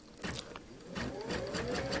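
An embroidery machine stitching a zipper at its lowest speed, a steady whirring hum with a repetitive mechanical needle rhythm, close up and continuous throughout.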